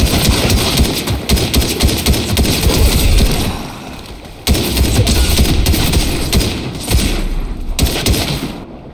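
Gunfire from other players in Fortnite, dense crackling bursts that break off abruptly and resume, loud and close over a steady rumbling background.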